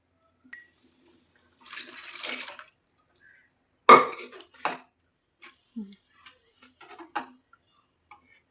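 Water is poured into a pot of spinach (palak) sambar in a home kitchen, a brief soft pour followed by scattered metallic clinks and scrapes of utensils against the pot, otherwise quiet.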